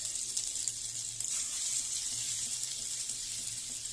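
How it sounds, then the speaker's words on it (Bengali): Asafoetida and green pea paste sizzle in hot white oil in a wok, a steady close hiss with light crackle throughout, no talking. "কড়াইয়ে সাদা তেল দিয়ে তার মধ্যে দিলাম সামান্য হিং। হিংটা একটু নাড়াচাড়া করে ওর মধ্যে দিয়ে দিলাম মটরশুঁটির পেস্ট।"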